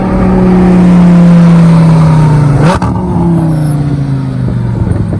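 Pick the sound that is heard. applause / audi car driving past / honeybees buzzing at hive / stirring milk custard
audi car driving past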